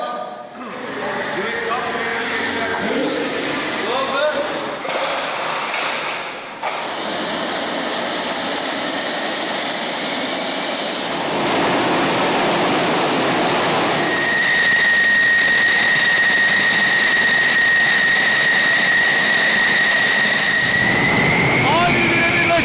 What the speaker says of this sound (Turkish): jetlere kalk dediler.